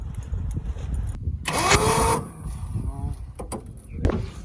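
A 1995 Ford F-350 dually with a 5.8 V8, starting for the first time in years with a starter missing a bolt and a bad fuel pump. A brief loud crank cuts in amid clanks and scattered handling noises nearby.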